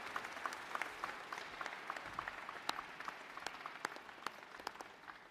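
Sustained applause from a crowd at a middle school closing ceremony, a steady patter of many hands clapping at moderate distance, with sharper individual claps standing out.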